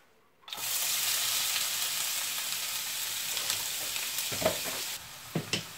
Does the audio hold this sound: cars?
no